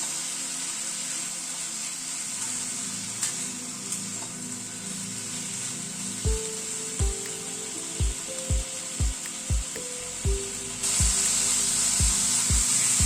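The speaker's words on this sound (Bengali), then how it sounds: "1 চামচ মতো আদা বাটা দিলাম। আদা বাটাটা দিয়ে আবার একটু নাড়াচাড়া করে নিচ্ছি।" Vegetables in a pan with a spoonful of ginger paste sizzle steadily while a spoon scrapes and stirs, about a dozen sharp taps against the pan near the end, the frying hiss growing brighter in the last seconds.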